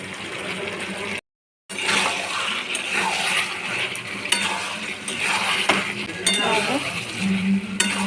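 Chilli chicken is stirred in a pan after a spoonful of sugar goes in, a continuous sizzle and scrape with occasional clinks of the spoon, broken by a brief gap of silence near the start.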